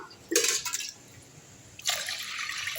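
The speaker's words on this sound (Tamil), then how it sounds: "அதே டம்ளரில் 4 டம்ளர் அளவுக்கு தண்ணி ஊற்றிக்கலாம்" Water is poured into a pot in two short bursts with a pause between, splashing and gurgling close by, with no talking.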